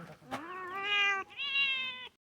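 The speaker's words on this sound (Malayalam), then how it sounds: "ചെക്കന് പൂച്ചയും ഒക്കെ ഉണ്ട് കണ്ടില്ലേ" A cat meows at close range, two drawn-out rising cries in quick succession with no voices around them.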